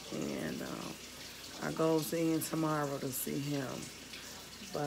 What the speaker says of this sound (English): You guys might hear some water in the background.